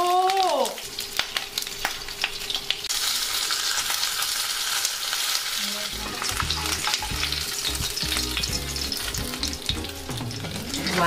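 Fish frying in a non-stick pan, a continuous close sizzle that turns busier after the halfway point, with clattering spatula scrapes and stirring knocks.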